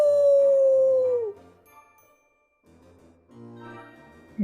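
A wolf howl used as the werewolf truck's cry in a Halloween monster-truck story: one loud, sustained howl that slides downward in pitch, followed by softer tinkling tones.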